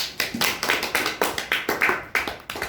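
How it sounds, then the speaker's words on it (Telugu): Children clap their hands in a quick, fairly regular run of about a dozen sharp claps, close by and loud, with no talking over them. "క్లాప్స్ కొట్టండి"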